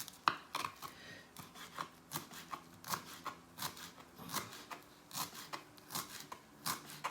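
Quiet knife cuts slicing vegetable tips on a board in a home kitchen, a loose series of short crisp strokes spaced irregularly, close and soft, with no talk.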